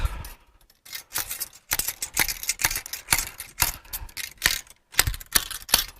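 Rapid metallic tapping as a brass rod is hammered into a Danish 11.7 mm rolling block rifle, sharp knocks in quick irregular bursts with brief pauses, fairly faint and without speech.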